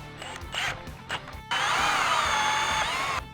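A 40 mm hole saw on a power drill cuts a hole during a Mitsubishi Triton washer bottle replacement: a few short bursts and pauses, then a sustained loud whining grind for nearly two seconds before stopping.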